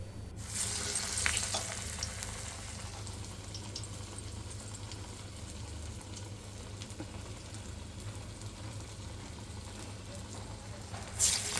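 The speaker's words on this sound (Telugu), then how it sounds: "దానిని చిన్న చిన్న వడలుగా ఒత్తి నూనెలో వేయించాలి" Small vadas of amaranth leaves, onion and black-eyed pea paste deep-frying in oil, a steady bubbling hiss heard close up, with a brief louder burst at the start and near the end.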